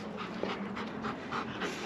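Dogs panting on a group training walk on a moor, rapid rhythmic breaths close by, loud and steady with no talking.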